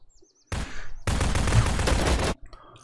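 Bursts of automatic gunfire from the video game Zero Sievert: a short volley, a brief pause, then a longer sustained rattle of rapid shots, loud and close, trailing off into quieter game ambience.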